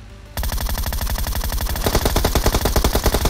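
Rapid automatic gunfire in PUBG Mobile: a sustained burst of loud, evenly spaced shots starts abruptly after a short pause and keeps hammering to the end, growing slightly denser midway.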